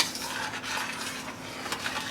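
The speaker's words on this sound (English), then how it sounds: "Stir your macaroni every once in a while." A spoon stirs macaroni in a boiling pot, with soft scraping and light clinks of utensil against metal over a bubbling hiss, close and brief.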